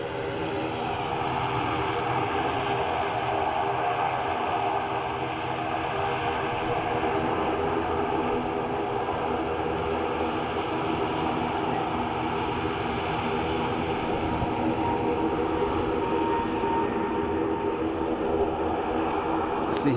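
A small plane at Dublin Airport runs with a steady, droning engine and propeller hum that holds loud and even, with no talk over it.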